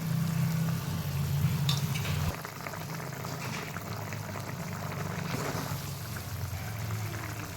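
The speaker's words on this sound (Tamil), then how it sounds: "நல்லா கிளறி விட்டுக்கோங்க" Dried fish curry (karuvadu kuzhambu) simmering in a pan, a continuous bubbling and sizzling with soft stirring scrapes, louder for the first couple of seconds and then settling into a steadier, quieter boil.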